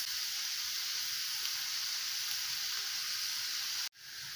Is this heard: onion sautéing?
yes